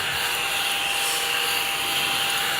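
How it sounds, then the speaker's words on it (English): A small desk vacuum runs close by, giving off a steady, loud whirring hiss that holds evenly throughout the brief stretch. "Oh, this is a desk vacuum."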